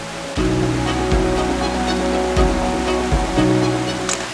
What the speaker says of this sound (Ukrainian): послухати, як дзюрчить струмок